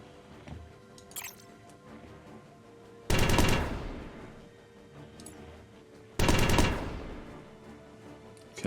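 Two heavy weapon volleys hit an enemy ship whose shield is down in the space strategy game Evolving Empires. Each loud blast lands about three seconds apart and trails off over a faint low hum.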